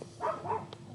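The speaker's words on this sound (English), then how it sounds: "Oh, my dog keeps barking." A dog gives a couple of short, soft barks at a distance, faint against a low background hum.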